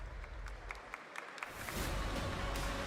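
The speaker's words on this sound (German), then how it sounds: "Einer klatscht" A lone person claps a few sharp, spaced times at a gaming showcase opening night, and a broader crowd-like wash swells in behind them partway through.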